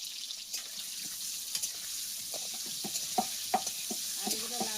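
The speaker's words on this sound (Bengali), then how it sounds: "আলুগুলো লাল লাল করে ভেজে নেবো" Potatoes dusted with turmeric powder fry in a pan with a soft, steady sizzle, while scattered clicks from stirring sound close by.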